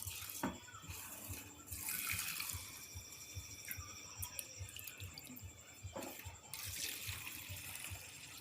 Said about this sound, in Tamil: இந்த மாதிரி உளுந்த களைஞ்சி எடுத்துக்கோங்க